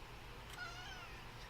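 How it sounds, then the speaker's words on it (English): A pet cat named Eddie gives a soft, drawn-out meow against a low steady background hum, brief and fairly quiet. "Oh, hi, kitty."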